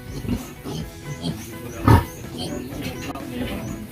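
A breeding sow gives a deep, short grunt on a farm, one loud low snort standing out above steady background murmur and faint voices.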